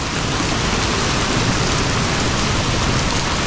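Heavy rain mixed with hail pours down outside a truck and tractor repair shop in Pennsylvania, a dense, loud and unbroken roar of drumming impacts.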